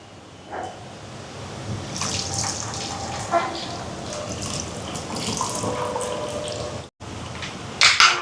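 Tamarind water poured into a crab curry in a home kitchen, a soft watery pour and trickle running through the clip with faint clinks, a brief louder splash near the end.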